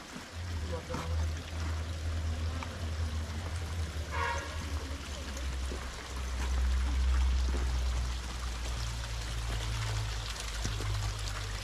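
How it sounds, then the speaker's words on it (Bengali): A forest waterfall in Sikkim gives a continuous broad rush of falling water, fairly distant and steady, with faint voices and a few knocks over it. "এটা হচ্ছে সেই ওয়াটারফল যেখানে এসে পড়ছে সেই জায়গাটা"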